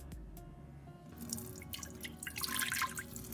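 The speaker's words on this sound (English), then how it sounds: "I'm going to add in some water" Water poured into a pressure cooker pot, a steady splashing stream that swells and grows brighter toward the end, close by with no talking.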